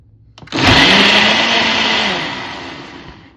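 A kitchen blender runs on its smoothie setting, starting abruptly with a loud, steady high-pitched whir and motor drone that slowly eases off over a few seconds.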